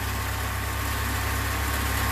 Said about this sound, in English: real good smooth running engine, no vibrations, no coughing or sputtering